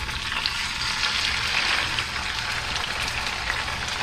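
Fresh snapper fillets frying in hot oil give off a steady, dense sizzle that holds evenly from start to finish, close and fairly loud, with no voices.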